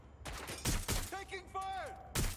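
Bursts of gunfire crack in a Watch Dogs Legion firefight, four or five sharp volleys spaced by short gaps, with a voice talking between the shots.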